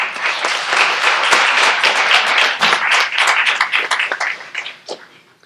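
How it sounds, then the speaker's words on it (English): A room full of people applauding graduating EMT classes at a university pinning ceremony, loud dense clapping that holds steady and then thins out and fades near the end. "So let's give them a quick round of applause."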